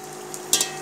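Dried red chillies fry in hot oil for a Rameswaram-style curry, giving two quick crackling pops over a steady, quiet kitchen background.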